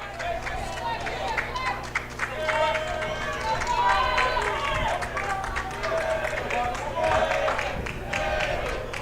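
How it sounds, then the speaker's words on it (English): Burrell Buccaneers players on the bench cheer and shout during a WPIAL 3A first-round high school baseball playoff game against Mohawk, with a steady, lively mix of voices carrying across the field at moderate distance. "The Burrell bench now getting loud, cheering on Kleckner"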